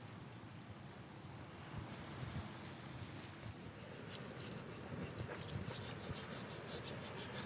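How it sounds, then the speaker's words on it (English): Japanese Santoku knife blade being sharpened on whetstones, a steady soft rasping rub with repeated strokes growing slightly brisker, faint and close with no talking. "Let's get back to complete the sharpening process."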